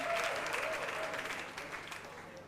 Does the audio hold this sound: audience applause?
yes